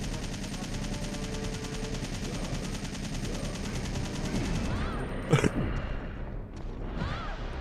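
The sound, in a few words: Nemesis shooting nearby in the video game Resident Evil 3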